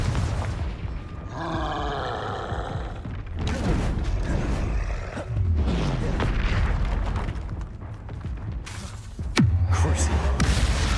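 A Confringo fire spell going off in Hogwarts Legacy, with bursts of booming, roaring blasts interspersed with other spell effects, loud and close, including a heavy impact near the end.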